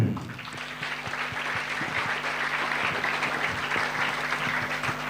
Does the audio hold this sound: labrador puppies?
no